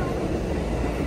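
A train rolls past in a short, loud burst of dense rumbling rail noise, continuous and close, with no distinct clacks.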